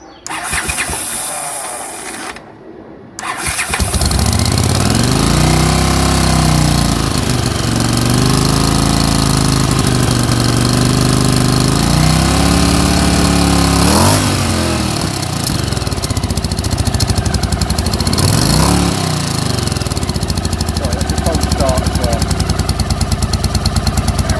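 A 1981 Honda CX500 motorcycle fitted with new exhaust pipes starts and runs close by, its loud engine note rising and falling through several throttle revs after a brief quiet start.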